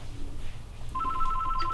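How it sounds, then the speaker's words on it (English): A telephone rings as a sound effect in the movie Dinosaur Hotel. The clear electronic ring starts partway through over low background rumble, pulsing in short repeated bursts that sit close and prominent. "Did they just forget to put the phone ringing sound effect early enough in that scene?"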